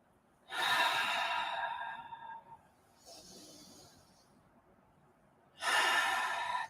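Deep breathing during a shoulder roll exercise, with a long audible inhale, a softer exhale, then another strong inhale, close to the microphone and with no talking.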